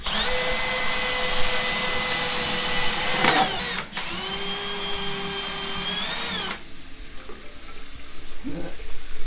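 A drain snake whirs through the clogged drain of an 80-year-old sink, a steady motorised whine that bends in pitch and cuts out abruptly, followed by quieter scraping and handling noises.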